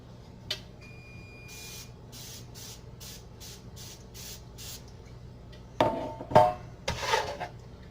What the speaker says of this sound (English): I'm going to spray them down with cooking spray.